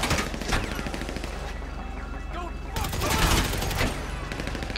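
Bursts of gunfire in the GTA video game crack out in quick rapid strings, loud and close, with a short lull in the middle before more shots rattle off.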